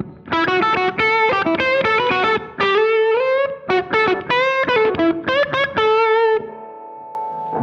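Gibson SG electric guitar, a 60th anniversary Custom Shop model, played through heavy distortion: a fast run of loud overdriven notes and chords close up, ending in a held, fading chord.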